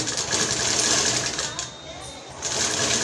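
A sewing machine runs close by, stitching thread piping along cloth at a neckline in a fast, steady buzz that eases and dips briefly before picking back up, with no one talking over it.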